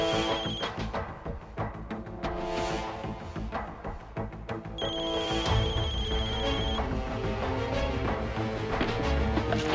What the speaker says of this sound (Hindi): ये तो वो जाली वाले फोन की आवाज है।